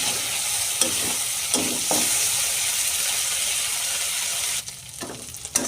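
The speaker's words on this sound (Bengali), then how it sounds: "চিংড়ি মাছগুলো হালকা করে ভেজে নেব" Peeled prawns shallow-frying lightly in hot oil in a kitchen pan, a steady bright sizzle broken by a few sharp scraping stirs, with no talking.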